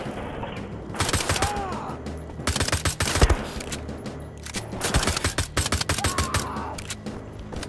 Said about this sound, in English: That guy's a machine gun.